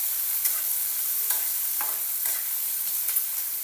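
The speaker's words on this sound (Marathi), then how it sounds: "कांदा मऊ पडेपर्यंत परतवायचं" Onions and green chillies sautéing in a home kitchen pan for egg bhurji, giving a continuous soft sizzle with a few brief scraping stirs of a spoon, close and steady, with no voices.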